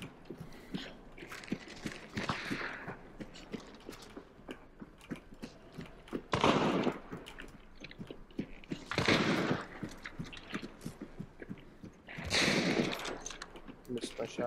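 Video game gunfire during a fight in Arden Parish, several loud bursts of shots spaced a few seconds apart among scattered clicks and rattles, with voices talking over much of it.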